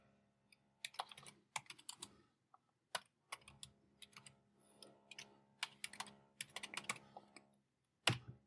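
Fast, uneven typing on a Mac computer keyboard, close up, in irregular bursts of keystrokes with short pauses, ending in a louder key press.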